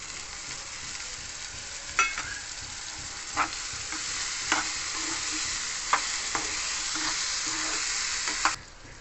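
Onion, tomato and chili fry in a pan with a steady, fairly loud sizzle while a spoon stirs them, giving a few sharp clinks and scrapes against the metal at irregular moments; no one speaks.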